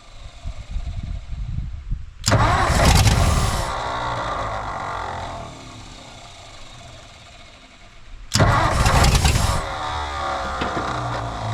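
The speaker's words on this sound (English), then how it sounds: "let's just try firing up without running the fuel pump" A flooded 1959 Ford F-600 straight truck with a Y-block engine gets two loud cranking bursts a few seconds apart, each roaring up then fading to a lower mechanical hum, no talking.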